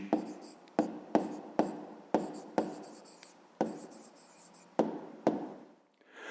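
Handwritten answer to a fifth-grade math exercise, set down in about nine short, scratchy strokes close to the microphone, each starting sharply and fading, with brief pauses between and no talking.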